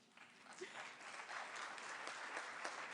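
Applause at a NATO summit in Turkey: a broad, steady wash of clapping from a large audience that swells after a soft start and holds at an even level to the end.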